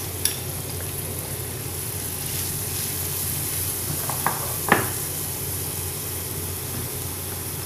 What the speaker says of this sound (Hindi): जीरा क्रम्बल हो गया है तो हम ये चॉप्ड ऑनियन इसमें डाल देंगे।